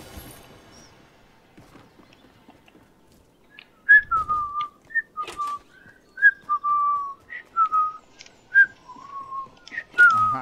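A person whistles a bright melodic tune up close, several short rising and falling phrases following near silence, with a faint knock partway through.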